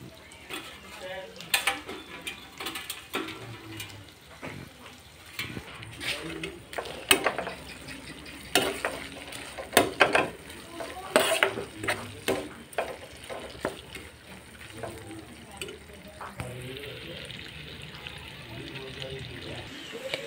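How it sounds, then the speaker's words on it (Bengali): Whole cardamom, cinnamon, bay leaves and raisins fry in a pan, giving a light sizzle under repeated sharp scrapes and clinks of a utensil against the pan, with a person speaking over it. "আমি এখন ভেজে নিছি। এখানে দিয়ে দিচ্ছি এলাচ, দারুচিনি, তেজপাতা, সাথে কিশমিশ"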